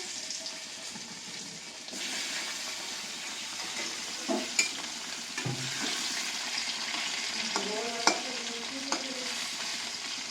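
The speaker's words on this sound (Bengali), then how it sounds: "আমি চিংড়ি মাছগুলোকে ভেজে নেব চিংড়ি মাছগুলোকে" Prawns frying in a home kitchen pan, a continuous soft sizzle with a sudden louder burst of spitting oil and a few sharp clinks of a utensil against the pan.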